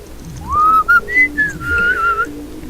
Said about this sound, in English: Pillar whistles at them.